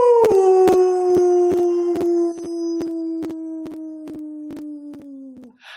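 A person imitates a wolf howl with a loud, sustained voiced call that slides slowly downward in pitch, with sharp rhythmic pulses running through it, heard up close and alone without other talk.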